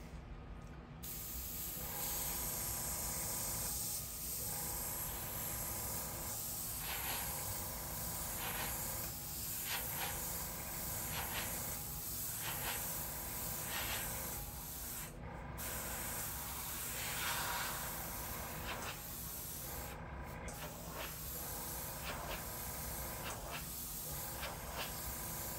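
Airbrush spraying a blue paint test onto paper, a continuous close hiss of air and paint that pulses slightly as the trigger is worked, with brief interruptions.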